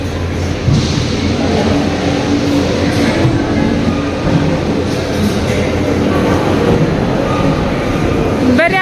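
A loud, continuous rumble of a train rolling past close by, steady for several seconds, with people talking faintly beneath the noise.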